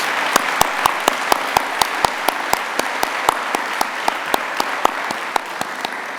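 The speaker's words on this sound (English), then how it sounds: "So round of applause, please, for the spouses and the families." Sustained round of applause from a commencement audience at an MBA for Executives graduation ceremony, a steady, dense wash of many hands clapping with a few sharper claps standing out, continuing without pause.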